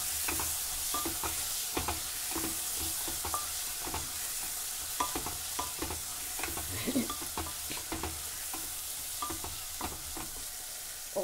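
Chopped desi tomatoes are stirred in a cooker for mixed vegetable biryani, a spoon scraping and clacking in repeated uneven strokes over a constant soft sizzle of frying, close and steady, with no talking.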